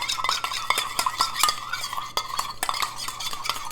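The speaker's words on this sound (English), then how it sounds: "let's give this a good mix" A utensil stirs and tosses a salad of dill, mustard, olive oil and lemon juice in a bowl, making quick, close, repeated clinks and scrapes with a wet rustle and no talking.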